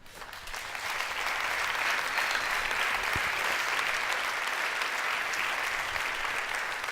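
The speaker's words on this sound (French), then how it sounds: "Donc je vous demanderai de les applaudir" Evening talk audience applauds the team behind Innovaya, a broad sustained wash of crowd clapping that swells after the first second and holds steady, with no voices over it.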